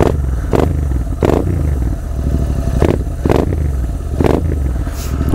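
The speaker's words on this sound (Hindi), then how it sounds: "तो गाइस ये है इंटरसेप्टर 650, ये था 2021 का मॉडल है, ठीक है। वो AW AWM है, एग्जॉस्ट लगा हुआ, ठीक है। तो इसका थोड़ा एग्जॉस्ट नोट सुन लो" A 2021 Royal Enfield Interceptor 650 with an aftermarket AWM exhaust idles loud and close, blipped into several sharp revs that rise and fall at roughly regular intervals, with no talking.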